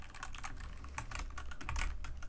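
Typing on a Redragon K617 Fizz RGB gaming keyboard with red switches: fast, continuous close-up key clacks and taps in an uneven rhythm, clear and alone without talk.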